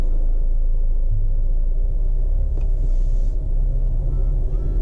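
A Mercedes W205 sedan rolls off after being shifted into drive, giving a steady low engine and road rumble from inside the cabin, with a brief faint click partway through and no voices.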